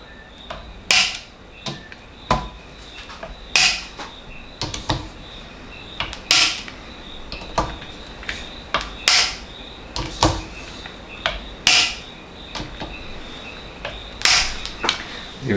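Torque wrench tightening scope ring screws in a crisscross pattern on a rifle build, giving a series of sharp close clicks and creaks spaced a second or two apart, with faint talk in between.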